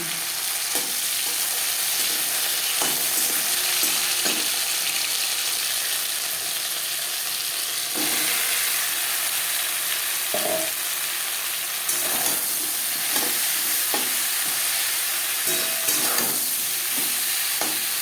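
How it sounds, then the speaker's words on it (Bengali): Marinated okra fries in hot mustard oil, filling the pan with a dense, constant sizzle and crackle, while a spatula periodically scrapes and knocks as the pieces are turned, heard up close without speech. "দু চামচ সর্ষার তেল গরম করে নিয়েছি এবার দিয়ে দেবো ম্যারিনেট করে রাখা ভেন্ডি"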